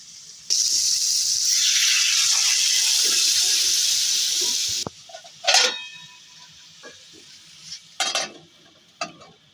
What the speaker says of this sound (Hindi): थोड़ा सा पानी डाल देती हूँ ताकि मिर्ची न गले।